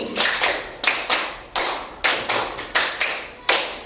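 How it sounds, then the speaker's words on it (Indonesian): A class of students claps together in a school lesson, roughly eight sharp synchronized clap bursts in an uneven patterned rhythm, loud and close, with no talking. "Kita berikan tepuk 5 2 kali"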